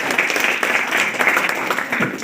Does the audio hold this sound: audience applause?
yes